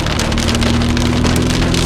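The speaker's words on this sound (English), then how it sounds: "It's raining." Steady rain falling and pattering on a surface during a storm, a dense continuous hiss with a low hum in the background.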